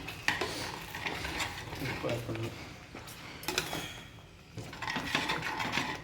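Pasta is stirred with Italian seasoning and chilli flakes, with scraping and clattering of a utensil against the pan in uneven bursts, close by, and a voice speaking between the strokes.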